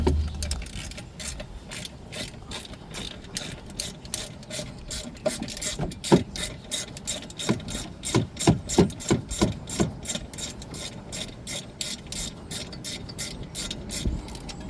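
A ratchet wrench working a rear brake caliper bolt loose on a 2020 Honda Civic, rapid metallic clicking in bursts with a few sharper knocks mid-way, close up and unaccompanied by talk.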